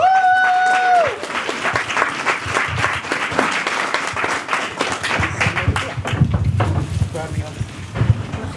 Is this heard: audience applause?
yes